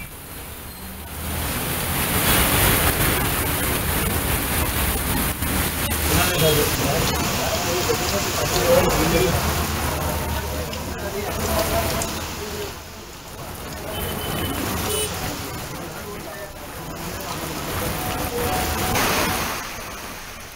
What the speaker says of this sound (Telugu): హైదరాబాద్ లో కుండపోత వర్షం కురుస్తుంది